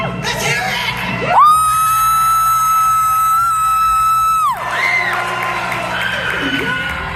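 A concert crowd yells, whoops and cheers, with loud, steady shouting broken by a long sustained whistle-like tone in the middle and a voice speaking over the noise.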